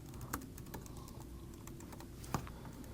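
Quiet computer keyboard typing while writing in a new code file, soft irregular keystrokes with a couple of sharper louder taps, close by over a faint constant background hum.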